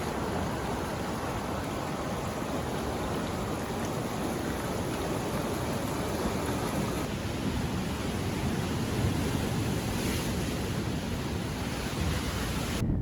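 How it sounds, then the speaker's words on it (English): Running water of small streams spilling into waterfalls along a trail on Hawaii's Big Island, a steady, full rushing wash that holds evenly for about thirteen seconds with no voices. "it's nothing but sounds of running water, lots of little streams running into waterfalls"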